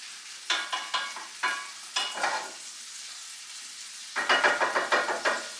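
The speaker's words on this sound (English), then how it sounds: "Give it a stir for the onions." Onions frying in a pan and being stirred, giving bursts of scraping sizzle in two clusters with a quieter gap between, close and alone with no talk.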